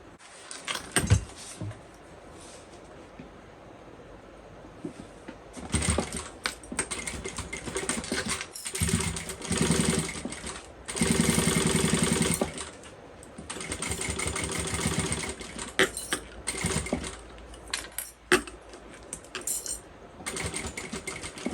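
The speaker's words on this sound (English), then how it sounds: "I'm going to stop about 1/8 of an inch from the edge here, because if you run off it, you will see that." Sewing machine stitching a bucket bag, bursts of rapid mechanical chattering stitches that start and stop repeatedly, with short pauses and handling clicks between runs.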